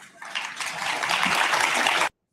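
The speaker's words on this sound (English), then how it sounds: "They clapping against Stephen A." An audience claps together in a dense burst of applause that starts abruptly, holds steady for about two seconds, then stops dead.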